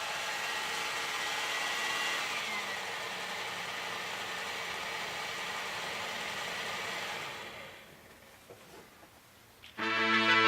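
An Arnold X73900 SNCF diesel railcar model in Terre Alsace livery runs at full speed, its small motor giving a steady, faint whirring hum that fades near the end before a brief louder sound cuts in.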